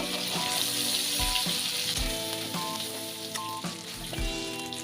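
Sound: shrimp frying in a pan

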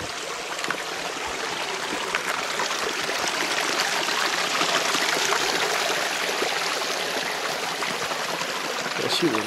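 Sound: small stream flowing under a large stone

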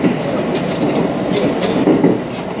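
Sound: train running on rails

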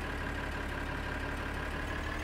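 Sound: tractor engine in video game Farming Simulator 2013

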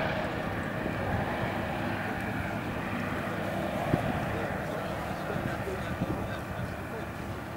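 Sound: WW2 aircraft with Bristol Mercury engine flying

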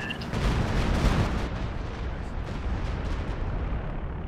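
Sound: mortar artillery fire in the video game Company of Heroes 2

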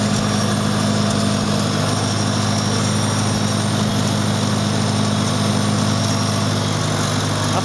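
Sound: 1972 IH Farmall Cub tractor engine idling after cold start

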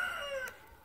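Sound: rooster crowing

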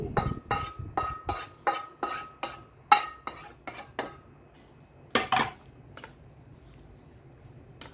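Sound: mixing instant noodle salad (yum mama) in a bowl

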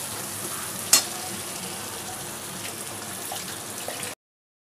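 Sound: sautéing spice paste in a pan

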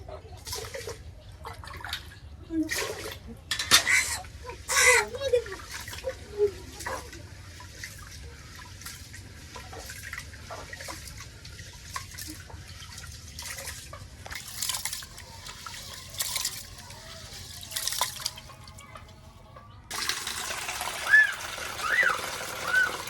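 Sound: rice being washed in water

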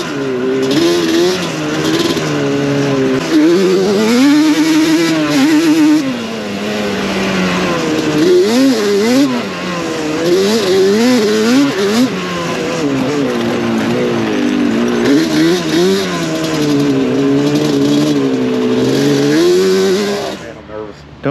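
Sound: Yamaha Banshee 421 ATV riding on sandy trails

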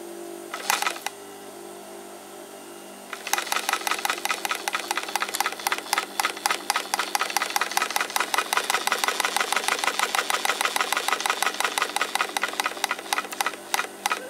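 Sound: Union Special 52800BT sewing machine motor running

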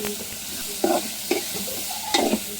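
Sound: stirring turmeric and salt into fish curry in a pan

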